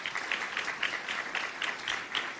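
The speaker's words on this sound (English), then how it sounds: "How about a round of applause for Michael?" Audience applause at a journalism awards ceremony, a steady patter of many hands clapping at moderate distance, fairly quiet, with no talk over it.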